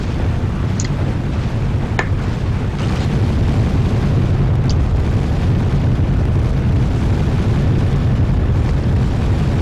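A loud, sustained roar of an explosion in the Contra video game, dense low rumble filling the whole stretch with a few faint crackling pops on top, no talk.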